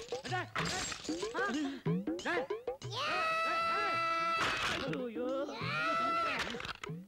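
The headlight glass of an Ambassador car is smashed in a Tamil comedy scene, with a few sharp crashing bursts breaking through. Loud, agitated voices shout over and between the crashes.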